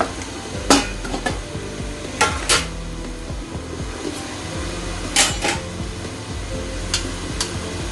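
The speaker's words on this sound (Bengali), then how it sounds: "এক টেবিল চামচ আদা রসুনটাকে আমি এবারে ভেজে নিচ্ছি" A spatula stirs ginger-garlic paste frying in a pan, with several sharp metallic scrapes and knocks against the pan over a soft background sizzle, up close and with no talk.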